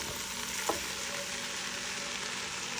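Vegetables including corn, peppers, onions and potatoes cooking in oil in a pot for a corn chowder, giving a steady close sizzle with one brief stirring clatter.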